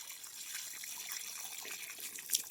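Water from a hose or can splashing and trickling onto cracked dry soil at the base of a backyard tree, a steady soft hiss of flow without speech.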